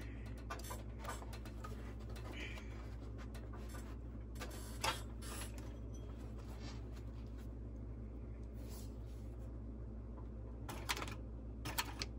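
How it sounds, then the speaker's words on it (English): A sewing machine stitches a 3/8 inch seam around a bag, a faint, steady motor hum under quick mechanical ticking and scattered clicks, with no talk. "So now I'm going to go stitch again 3/8 of an inch seam all the way around."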